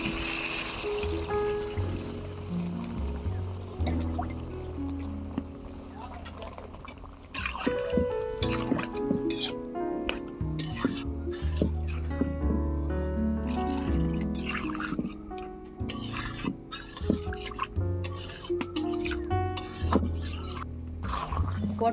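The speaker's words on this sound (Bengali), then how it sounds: "এবারে পরিমাণ মতো জল দিয়ে দেব।" Water poured into a pan of fried pointed gourd and potatoes, a soft steady liquid splash and sizzle in a home kitchen, continuing with faint clinks and stirring noises, no voices.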